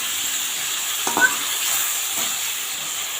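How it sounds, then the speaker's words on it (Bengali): A spice paste of green chilli, ginger, cumin and onion sautés in a pan with a steady, close sizzle. A few stirring scrapes break in midway, and no one talks. "মশলাটা দিয়ে আমি ভালো করে কষিয়ে নেব।"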